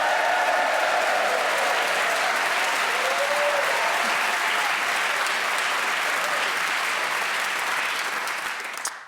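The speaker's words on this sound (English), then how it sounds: "so please whoop and cheer for all four of them" A studio audience at a comedy panel show cheers, whoops and claps loudly and continuously, a dense wash of applause that holds for several seconds before cutting off abruptly.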